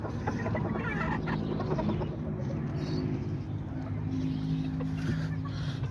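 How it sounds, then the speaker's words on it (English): A little rooster in a cage clucks with low, repeated calls over steady background noise, and a hen is nearby at a nest box. "I have this little rooster here"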